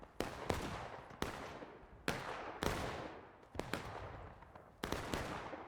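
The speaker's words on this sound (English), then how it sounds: "Clark battery is going to try to get a shot on the EB." Artillery battery cannon fire in the Civil War game War of Rights on Piper Farm: repeated sharp, booming reports at uneven intervals, several in quick succession, each trailing off into a rolling echo, somewhat distant.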